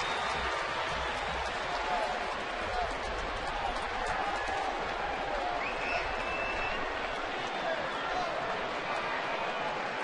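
A big baseball stadium crowd murmurs and cheers continuously in the distance at a Phillies at Braves game in Atlanta, a steady wash of noise under a broadcast.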